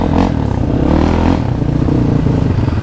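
A dirt bike rides a rough jungle trail on a hard enduro outing, its engine a loud, close, continuous drone mixed with clattering and scraping over uneven ground.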